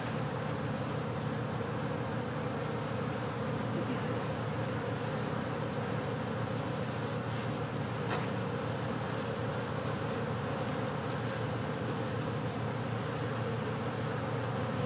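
Honey bees buzz steadily around fresh comb, a dense, unbroken drone of many wings that stays even and close throughout.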